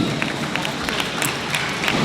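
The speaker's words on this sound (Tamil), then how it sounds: "ஒரு பெரிய கரகோஷம் கொடுத்து அவர்களை" An audience at a BNI celebration event in Tamil Nadu applauds, giving a dense, steady wash of many hands clapping at once, loud and continuous throughout.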